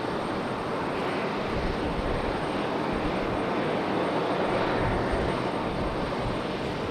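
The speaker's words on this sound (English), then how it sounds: "Got an American A321 out behind this AeroMexico here." An American Airlines Airbus A321 airliner at Raleigh-Durham airport, a steady broadband engine roar that holds evenly throughout, heard from a distance with no talk.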